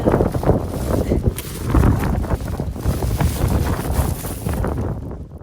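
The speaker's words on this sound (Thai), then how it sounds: "ลมแรงมากเลย" Strong wind buffets an outdoor microphone in harsh, continuous rumbling gusts across the whole stretch, loud and broadband, with no clear talk. It is heard while gathering wild garlic.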